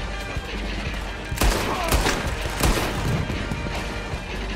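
Gunfire in the Red Dead Redemption 2 video game, several sharp loud shots and cracks over a steady din of battle noise.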